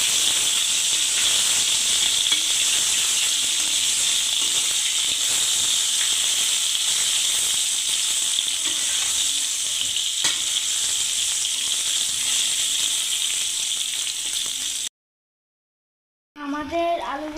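Potatoes coloured with orange food colouring fry in a pan for beef biryani, giving a steady close sizzle and hiss that runs unbroken before cutting off abruptly near the end.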